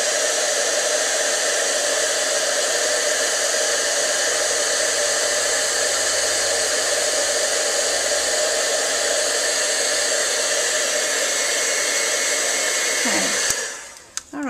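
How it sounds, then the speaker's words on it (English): An embossing heat tool blows a loud, steady hot-air roar while melting embossing powder on a stamped card, running unbroken until it clicks off at the end. "Now we're going to get our heat tool, and I like to let mine heat up a little bit before I emboss"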